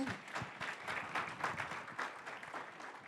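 Audience applause at a panel discussion with political candidates, a fairly quiet but continuous patter of many hands clapping with a faint crowd murmur.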